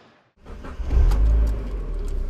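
A 1.8 litre car engine cranks and fires after a brief quiet moment, catching with a loud low roar, then settling into a steady close idle.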